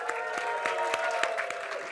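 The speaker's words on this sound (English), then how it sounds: "let's get the applause going" A crowd at a 48in48 global event closing ceremony applauds steadily, a moderate wash of clapping with a few sharper individual claps standing out.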